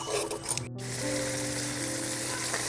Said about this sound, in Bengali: টমেটো পিউরিটাকে দিয়ে কিন্তু ভালো করে কষিয়ে নিতে হবে যতক্ষণ না পিউরি থেকে তেল ছাড়ে